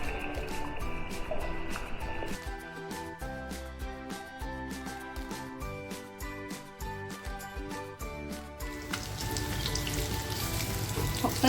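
Boiled eggs frying in hot oil for anda tikka masala make a steady close crackle of sizzling with dense rapid pops, growing a bit louder and rougher toward the end.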